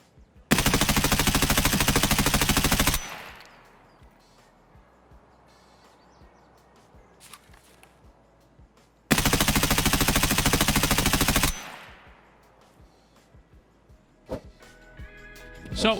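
Automatic gunfire in the shooter game Escape From Tarkov: two sustained, loud bursts of rapid fire, each lasting a couple of seconds. Quieter gaps between them hold faint clicks and handling noises.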